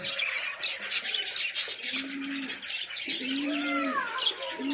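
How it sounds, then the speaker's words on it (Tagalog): Soft lovebird chirps and tweets come in quick bursts over a busy aviary background, with a few low dove cooing calls mixed in. "Lovebirds."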